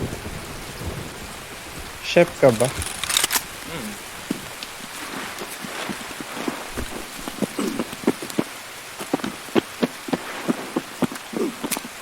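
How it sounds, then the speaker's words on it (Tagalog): Heavy rain pounding down with thunder rumbling and cracking, a steady downpour with loud bursts early on and sharp drops striking surfaces nearby, while a voice briefly speaks. "Lakas ng ulan, ano ba yan?"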